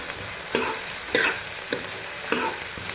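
Onions frying in a pan, a close sizzle punctuated by about five distinct spatula scrapes spaced roughly half a second apart, moderately loud with no voices.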